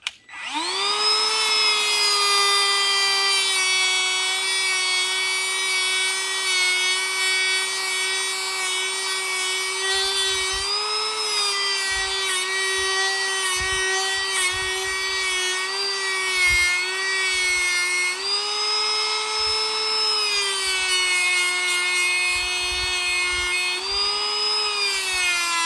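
A battery Dremel rotary tool grinds and polishes an AK trigger hammer, a steady high-pitched whine running continuously and close, with small pitch dips where the bit bites into the metal and brief scraping contacts.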